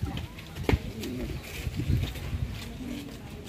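Homing pigeons cooing in a loft, a few soft low coos and rustles scattered over a steady background murmur, with faint voices nearby.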